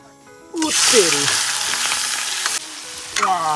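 A loud, steady sizzle of spices frying in hot oil, hissing and crackling throughout, with clinks of a utensil against the pan.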